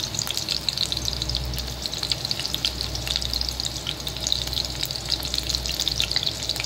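Garlic and curry leaves fry in oil for a surmai fish curry, giving a dense, steady crackling sizzle that stays loud and close throughout, over a low constant hum.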